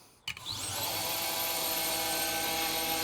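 A bench grinder fitted with a grit guard switches on with a short thump, then spins up into a steady, loud motor whine and rising tone that holds continuously, with no talking over it.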